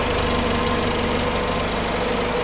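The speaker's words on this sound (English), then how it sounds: "You see here a very clean and even running exhaust with no missing or no puffing or sputtering." A 1953 Willys CJ3A L-head engine idling steadily just after a cold start, still warming up, a loud, even, low rumbling exhaust with no misses or sputters, continuous and close.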